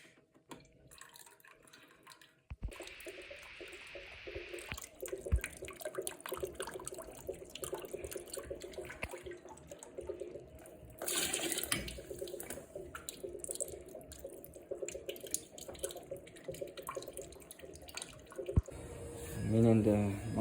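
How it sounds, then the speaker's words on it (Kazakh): Water drains and drips from a Viessmann gas boiler into a glass set beneath it, a steady trickle with occasional drips and clatter over a background hum. "Су ағып кеткен ішіне суын барлығын ағызуымыз керек."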